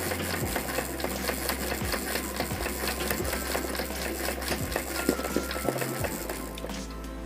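An embroidery machine stitches a running-stitch outline for mirror (shisha) work, a steady rapid mechanical clatter with a rhythmic thumping underneath, continuous and close, pausing briefly near the end before resuming.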